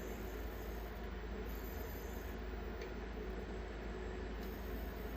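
An old arcade monitor with its high-frequency adjustment turned up too far, giving a steady thin high-pitched squeal over a constant low electrical hum, close and unbroken.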